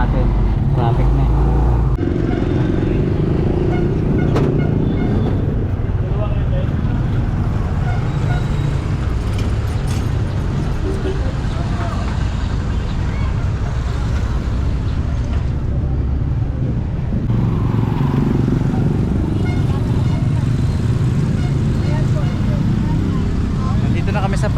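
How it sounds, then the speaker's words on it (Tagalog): Busy street traffic near a market on a Sunday, with car and motorbike engines rumbling close by in a continuous low drone, with people talking over it. "Traffic na eh."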